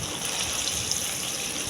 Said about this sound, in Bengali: প্রথমে পনিরগুলোকে কেটে নিয়ে ভালো করে ভেজে নেব।